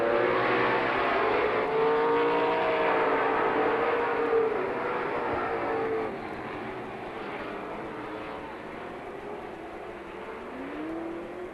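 Race cars on a Lorain County, Ohio speedway backstretch in September 2000, a dense roar of several engines with rising and falling pitch sweeps, loud at first then easing slightly as the pack pulls away.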